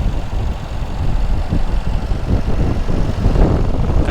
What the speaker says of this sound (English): oh, the exhaust notes, the sound of the intakes with the turbo spooling, I mean, it sounds incredible.